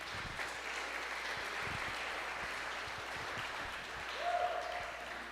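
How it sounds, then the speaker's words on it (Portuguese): A congregation in a church gives a round of applause for Jesus: soft, continuous clapping heard from a distance, fairly faint and even throughout, swelling slightly near the end. "Uma salva de palmas a Jesus"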